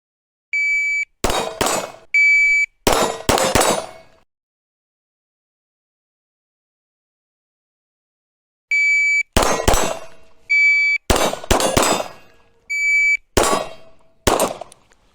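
Pistol practice at simple targets with a red-dot sight: two pairs of sharp electronic shot-timer beeps, each quickly followed by bursts of loud close gunshots, separated by a long silent gap.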